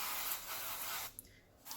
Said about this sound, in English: before I place this on my waffle iron, I'm going to spray.